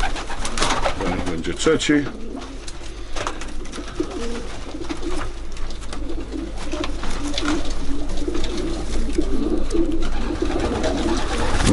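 Pigeons coo repeatedly nearby in a loft or pen, soft throaty calls running throughout, with someone talking intermittently over them.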